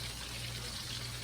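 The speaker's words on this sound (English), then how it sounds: "I'm gonna put some of this virgin olive oil in the pan." Virgin olive oil pouring into a cooking pan, a soft steady trickle and splash of liquid held at an even, low level throughout.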